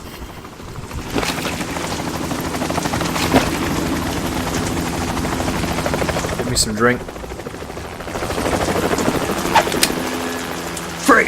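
A helicopter in the Metal Gear Solid 2 tanker mission whirs steadily and loudly throughout, with a burst of gunfire partway through and voices talking over it.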